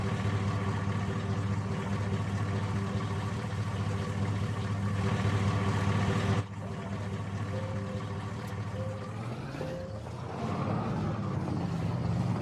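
A truck engine idles steadily nearby on a farm, a low, even rumble that holds for several seconds, briefly dips, then settles back into a continuous drone with no voices over it.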